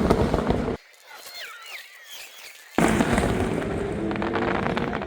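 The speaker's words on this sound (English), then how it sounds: "these fireworks went on for ages" Fireworks at the Le Mans 24 Hours race popping and crackling in dense bursts, briefly dropping to a quieter lull of whistles and distant pops before the loud barrage resumes.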